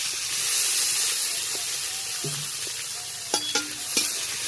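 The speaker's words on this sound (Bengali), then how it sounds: "পেঁয়াজটা বেশি একদম হালকা করে ভেজে নেবো" Onions sizzle and hiss in hot oil with fried cumin and chilli for a bottle gourd dish, a steady frying crackle, with a few brief utensil scrapes and clinks from stirring near the end.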